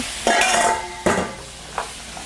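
A metal utensil scrapes and clanks in a pan while potatoes are stir-fried with gochujang chili paste and garlic, three distinct knocks spaced apart over a faint background sizzle, with no talking.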